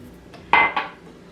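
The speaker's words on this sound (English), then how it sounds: "Give it a little bit of a stir." A spoon stirs fresh lemon juice into simple syrup, producing two quick, bright clinks of metal against the container, close and clear, followed by quiet.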